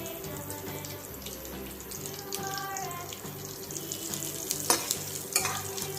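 Cashews, almonds and raisins frying in ghee, a soft sizzle with intermittent stirring scrapes and clinks that grow busier toward the end.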